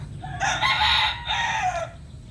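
A native Filipino red bulik rooster crows once, a loud, close, drawn-out call lasting about a second and a half, with no talk over it.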